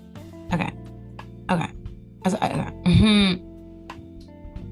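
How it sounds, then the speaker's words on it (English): Someone clears their throat several times in short rough bursts, ending in a longer voiced grunt, close and with no speech. "I'm actually clearing my throat or like blowing my nose."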